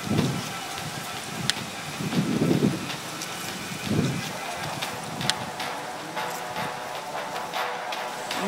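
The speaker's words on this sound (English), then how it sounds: "Looks like we got ourselves a storm." Steady rain hiss with occasional low rumbles like distant thunder, continuous throughout.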